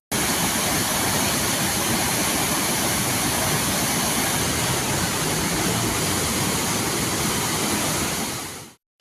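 Waterfalls roar after heavy rain, a loud, dense, unbroken rush of falling water that holds steady before cutting off abruptly at the end.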